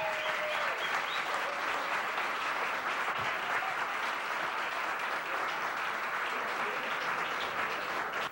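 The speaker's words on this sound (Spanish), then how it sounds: "Un aplauso para él." A crowd at a salsa club show applauds a trombonist, a loud, dense, unbroken roar of clapping that holds steady from start to finish.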